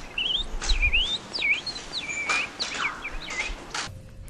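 A person whistles in imitation of songbird calls, sweeping chirps and warbling notes in short phrases, clear and close with light background noise.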